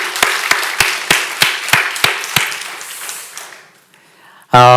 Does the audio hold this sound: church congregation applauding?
yes